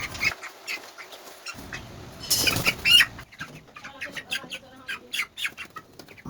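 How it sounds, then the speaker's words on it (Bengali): Broiler chickens in a crowded farm shed cluck and squawk continuously while being caught and shifted into a new cage, with wing flaps and a brief louder burst of flapping midway. "কিছু কিছু মুরগিকে খাঁচা চেঞ্জ করে দিচ্ছি"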